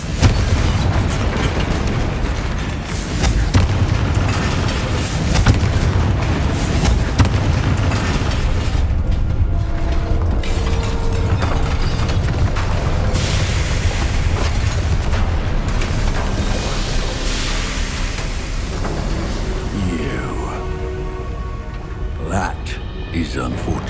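Fiery explosions from the Confringo spell in the video game Hogwarts Legacy boom repeatedly amid a loud, continuous wash of combat noise, with speech over the top and softer crackling toward the end.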